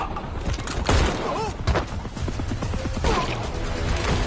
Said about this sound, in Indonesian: Di tengah baku tembak yang masih berlangsung